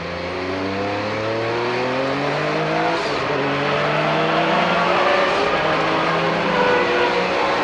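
Vintage racing cars, among them a 1990 Porsche 962C, accelerate hard at a green flag restart. Several engines roar and climb through the gears together, loud and close, with rising pitch sweeps overlapping throughout.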